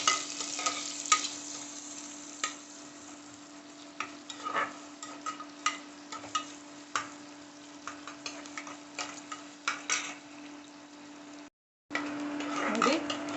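Onions frying in about three spoons of hot oil for chicken masala, giving a continuous close sizzle with regular spoon clicks and taps against the pan, a steady hum beneath, and a brief dropout near the end.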